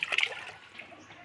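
A brief burst of trickling, splashing floodwater inside a flooded house that quickly settles into a faint, steady flow; no voices.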